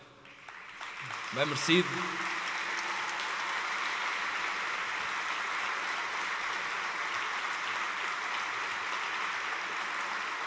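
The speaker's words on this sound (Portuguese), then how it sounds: "Uma salva de palmas, mais uma." Sustained applause fills a Ponta Delgada sports gala hall, starting after a brief spoken remark and continuing steadily and loudly as a dense crowd of clapping.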